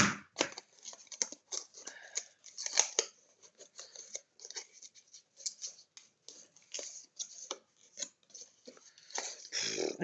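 Scissors snipping paper during a scrapbooking session, a steady run of short crisp cuts at close range with irregular rhythm, some rustling of paper between cuts, no voices.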